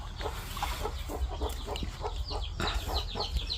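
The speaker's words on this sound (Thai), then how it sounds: "คุณยายกำลังต้อนไก่เข้าเรา" Chickens clucking steadily as an elderly woman herds them into a coop outdoors, with overlapping soft clucks and calls from several birds over a low rumbling background.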